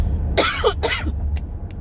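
Two harsh, bursting coughs close by inside a 2020 Ford F-150 EcoBoost truck, followed by a couple of faint clicks over a low engine rumble.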